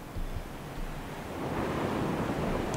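Ocean surf and wind in the video game Dear Esther, a steady broadband wash that swells and grows louder toward the end, with no voices.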